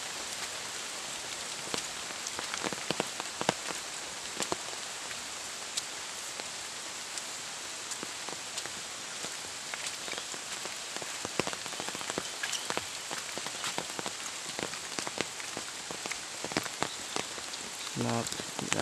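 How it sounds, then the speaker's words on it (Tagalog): Steady rain pattering on a surface, with scattered sharper drops landing nearby throughout, continuous and fairly even in loudness. "Ulan, ulan."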